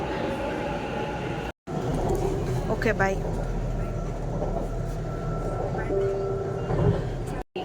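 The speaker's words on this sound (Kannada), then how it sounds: "ಇವಾಗ ಮೆಟ್ರೋ ಬಂತು ಮನೆಗೆ ಹೋಗ್ತೀವಿ" A Bangalore metro train pulls into a station, its steady rumble and rail noise filling the clip, with a brief brake squeal and a short electronic tone near the end; a voice speaks briefly over it.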